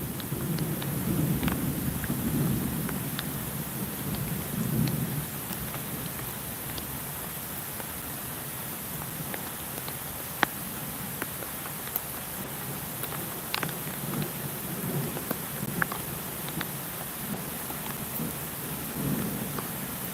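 Steady rain falls outdoors on a dark night during a thunderstorm, with low, distant thunder rumbling beneath the continuous patter. No one speaks.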